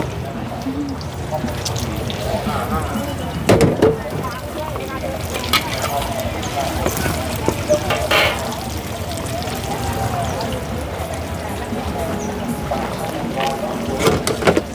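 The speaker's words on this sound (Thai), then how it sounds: "ผัดไทย ผัดทีละกระทะเยอะๆ นะคะ" Sizzling and clattering from a busy street-stall wok as a large batch of pad thai noodles with egg is tossed and stir-fried, with steady frying noise under someone talking.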